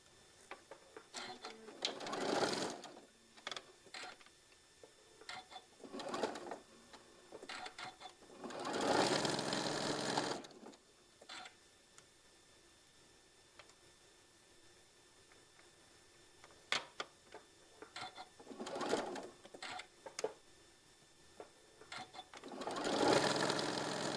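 A sewing machine stitches table runner pieces in repeated bursts, each run a few seconds long and fairly close, with quiet pauses between runs while the fabric is lined up.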